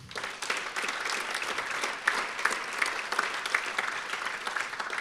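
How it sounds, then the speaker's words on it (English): Steady applause from a dinner audience at a Purdue baseball first-pitch event, clapping for the head coach, fairly distant and even, rising slightly in the middle with scattered sharp claps. "And you'll get to clap for him twice here, our head coach"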